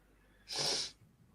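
A single short, breathy sneeze bursts out close by, sharp and hissy, against a quiet background.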